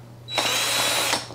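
A power drill fitted with a hole saw and a silicone dust bowl, cutting for recessed lights, whirs at a steady high pitch for about a second, loud and close, with no talk.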